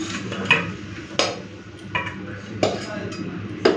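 Fish head chorchori made with bhetki fish head, potato and brinjal is poured out into a dish, with a spoon scraping and clinking against metal cookware in repeated sharp knocks over a low, steady background.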